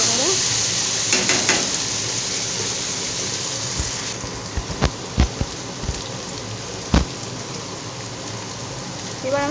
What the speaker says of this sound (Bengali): আবার আমি ভালো করে নাড়িয়ে নিলাম